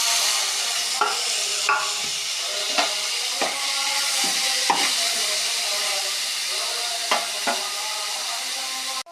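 Onions and tomatoes fry in oil in a pan, giving a continuous soft sizzle and hiss, with scattered clinks and scrapes of stirring at irregular intervals and no talking.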